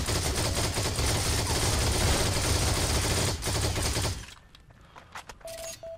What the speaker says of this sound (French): On est en train de se faire tirer dessus.